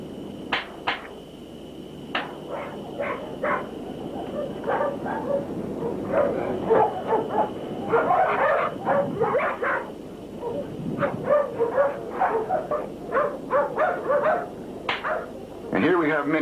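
Pit bulls at a kennel in 1984 bark and yip in short, sharp bursts, some near and some farther off, scattered irregularly over a steady background hiss while people talk underneath.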